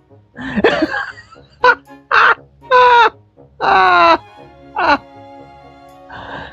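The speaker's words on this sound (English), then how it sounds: "It was a seagull!" Seagull cries in the Wind Waker HD video game: several short, loud, harsh squawking calls in quick succession, with voices and game sounds around them.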